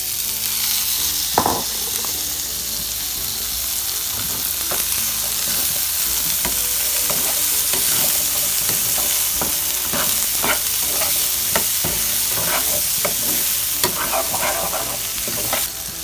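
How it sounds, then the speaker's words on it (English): Sausage and chickpeas sizzle in a pan over a steady, loud frying hiss, with frequent close stirring scrapes and clicks throughout and no talking. "I'm going to add the chickpeas to it, just to fry off in the fat of the sausage"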